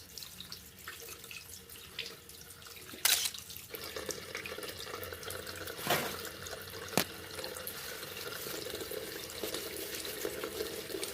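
Tap water runs steadily into a sink while hands are rinsed, a soft close splashing with a few brief louder splashes and knocks along the way, no talk.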